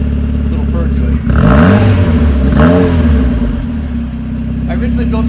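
The "Turbosmurf", a hard-top car with a turbocharged engine, idles with a steady low purr and then revs up twice in rising, falling sweeps, its exhaust note close and loud beneath someone talking.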